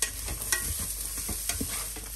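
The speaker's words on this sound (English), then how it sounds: "And I'm going to add everything into the slow cooker, which is already hot on saute mode" Chopped chili pepper, onion and garlic sautéing in a slow cooker preheated on its sauté setting, with a steady low sizzle broken by several scraping stir clicks and clatters.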